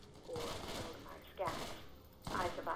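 Three bursts of rapid gunfire from a Borderlands firefight, spaced about a second apart, each a sharp clattering volley with a quick decay, loud and close.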